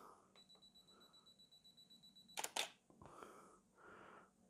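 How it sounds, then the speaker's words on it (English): A camera on a self-timer ticks with a regular beep countdown, then the shutter snaps sharply, followed by softer mechanical whirring, all close and fairly quiet. "Take a couple of shots again, like I says,"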